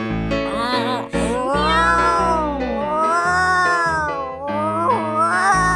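Sung imitation meows, a long run of wailing, sliding cat-like calls repeated over a musical accompaniment.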